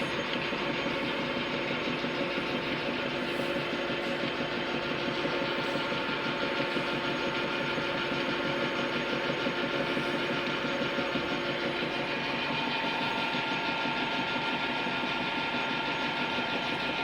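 A Harrison M250 metal lathe running in gear, giving a steady, even mechanical hum and whir with a fine rapid chatter of gearing throughout, moderately quiet and unchanging, with no voices.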